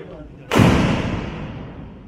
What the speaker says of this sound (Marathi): आणि आता फटाक्यांची आताशबाजी करून सेलिब्रेशन होते